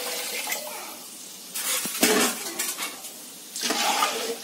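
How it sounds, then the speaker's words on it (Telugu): Water is poured over fried rice in a cooking pot for prawn biryani and stirred, giving splashy scraping and clanking bursts with quieter pauses between them. "బియ్యం వేగిన తర్వాత వాటర్ పోసుకుని ఇలా ఒకసారి తిప్పుకుని ఉప్పు చూసుకుందాం"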